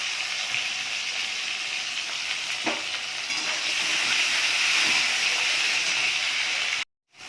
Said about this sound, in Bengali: কাঁচা লঙ্কাও দিয়ে দিলাম।